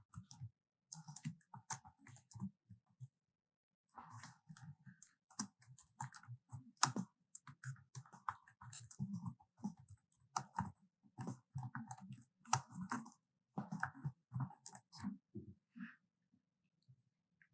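Steady bursts of typing on a computer keyboard as a title is entered into a buyer login form, quiet close key clicks in uneven runs with brief pauses between them.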